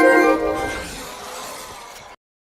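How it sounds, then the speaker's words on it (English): The PlayStation trophy unlock chime from a video game console: a bright shimmering tonal ping that fades away smoothly over about two seconds before cutting to silence, clear and alone. "Here's the PlayStation trophy unlock sound."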